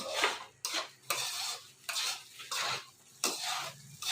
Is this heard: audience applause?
no